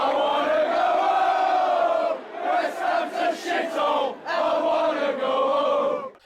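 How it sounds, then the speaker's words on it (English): A large football crowd sings a chant set to the tune of Sloop John B, loud massed voices carrying a sustained melody with brief dips between phrases. "Take a listen to this example of a song I've heard a lot of crowds sing."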